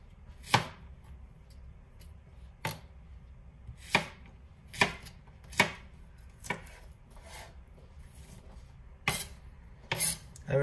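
Nakiri kitchen knife chopping food on a board in sharp, separate chops spaced about a second or two apart, close and clear over a quiet background.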